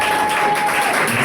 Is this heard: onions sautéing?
no